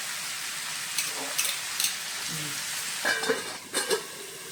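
Duck curry with potato simmering and frying in a pot on a low flame, a soft continuous sizzle broken by a few clinks and scraping stirs of a utensil, with no voices.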